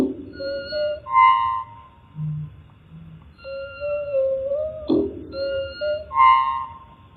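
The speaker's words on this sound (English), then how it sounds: "Here I have a recording of a starling." A slowed-down starling recording: drawn-out, pitched whistles with bright harmonics, arranged in a few separate phrases and gliding tones. The whistles are moderately loud and clear, with no voices.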